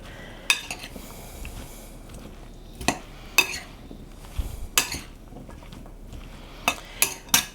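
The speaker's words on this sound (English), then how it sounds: "I'm mixing this together. I'm making sure all those herbs are mixed in well" Herbs being mixed into a tomato salad in a bowl, with a utensil scraping and clinking against the bowl in sharp, irregular knocks separated by soft stirring sounds, close and without talk.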